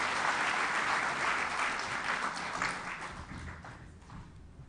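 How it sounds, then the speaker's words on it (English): A ceremonial audience applauds at the official opening of the ARIPO Council of Ministers session: sustained, full-room clapping that holds steady, then slowly tapers off. "Please give him a round of applause."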